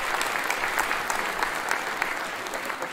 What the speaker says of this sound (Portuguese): salva de palmas para ela!